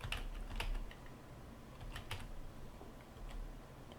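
Someone types on a computer keyboard while entering quantity estimates for a building project. Quiet, quick key clicks come in short irregular bursts, close and faint, with no talk.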